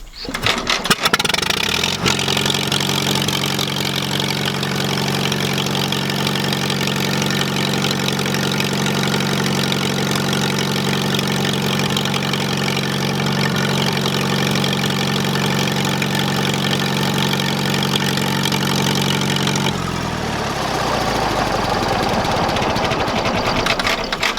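A loud tractor engine idles steadily with a low, even chug for about twenty seconds, then cuts out, leaving quieter rattling and noise.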